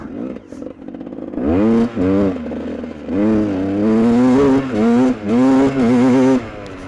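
A freshly repaired GasGas motorcycle without electric start revs hard and close, its engine pitch sweeping up and dropping in a series of about eight throttle blips of rising intensity, loud against a faint background.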